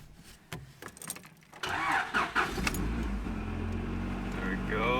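A Honda DC2 that has sat unused cranks with a few clicks and whirs, then catches and starts, settling into a steady close idle with a rising whine layered on top.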